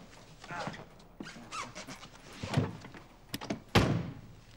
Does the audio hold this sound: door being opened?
yes